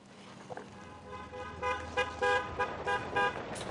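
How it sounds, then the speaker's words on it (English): A sister's small car arrives outside, with two or three short, bright horn-like toots near the end over low rumbling road noise, fairly faint and distant. "I hear her little car"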